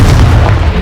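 Confringo fire spell blast in the Hogwarts Legacy video game: a single loud, booming explosion with a dense low rumble filling the short moment.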